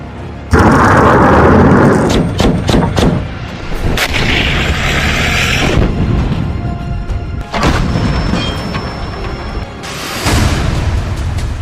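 Loud booms and rumbling blasts from a combined drone, rocket and missile attack on Kyiv, repeated several times over a sustained low roar of fire and destruction, with no voices.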